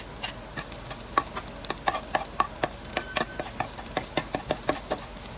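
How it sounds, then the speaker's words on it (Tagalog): Garlic and onion sautéing in oil in a wok, a low sizzle under a quick run of sharp spatula taps and scrapes against the pan. "At igisa na natin ang ating bawang at sibuyas guys."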